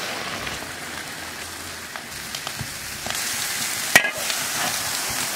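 Seasoned meat with chillies, salt, Sichuan pepper powder, ginger powder and dark soy sauce stir-fries until its juices release. A steady close sizzle runs throughout, broken by occasional scrapes and clinks, and it grows louder toward the end.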